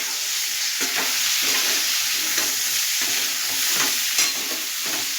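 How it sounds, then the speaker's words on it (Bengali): Jackfruit pieces frying in a pan, a steady broadband sizzle running throughout with repeated soft scrapes of stirring at irregular intervals, close and fairly loud with no talking. "আমি যখনই ইঁচড় করি একটু সিদ্ধ করে ভালো করে ভেজে নিই"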